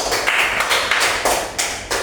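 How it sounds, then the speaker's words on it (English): A small group in a micro-teaching classroom session gives slow, spaced claps, about six distinct hits, close and moderately loud with a faint hiss of room noise between them. "Let's give applause to Cindy."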